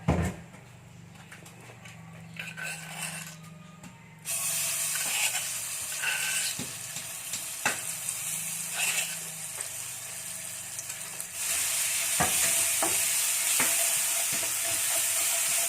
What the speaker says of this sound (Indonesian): Setelah panas, kita masukkan bumbu yang dihaluskan